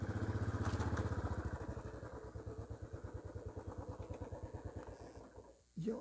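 A motorcycle engine idles nearby with a steady rapid thumping pulse that slowly fades as the bike is parked, then cuts off with a short clunk at the end.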